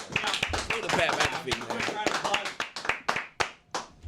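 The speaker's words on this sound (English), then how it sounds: "I would like to just give my boy a round of applause right quick" A few sharp hand claps ring out on a studio sports talk show, scattered among the hosts' voices, then grow more distinct and isolated near the end.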